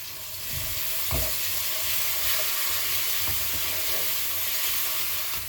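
Meat marinated in ginger-garlic paste sizzles and crackles steadily in a hot pan while being stirred, with a few soft scrapes of the spoon over a continuous close frying hiss.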